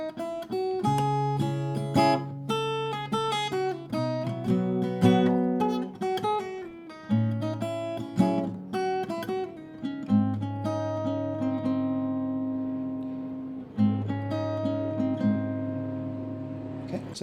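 Fingerstyle guitar picks the intro of a Hindi song, a steady stream of plucked melody notes over ringing bass notes, close and alone, with chord changes every few seconds.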